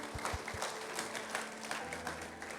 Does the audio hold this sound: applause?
yes